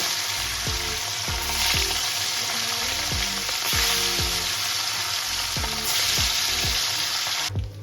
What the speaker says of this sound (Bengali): এবার আমি এক এক করে মাছগুলোকে ভেজে নেব